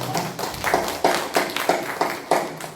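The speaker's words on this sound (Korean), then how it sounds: "하나님께 영광의 박수를 감사의 박수를" A church congregation at a Sunday praise service claps together in a loose, moderate rhythm, a soft mass of handclaps heard at a distance in a reverberant room.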